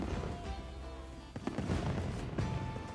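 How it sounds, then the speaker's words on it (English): Fireworks going off at an outdoor fire festival: several sharp cracks and pops land around the middle and near the end over a busy, noisy crowd background, with faint music tones underneath. "I didn't realize we'd get fireworks too."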